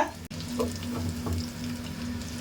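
A homemade hotel-style potato cutlet fries in a pan as it is flipped. A sharp click is followed by a quiet, steady sizzle and soft oily crackles.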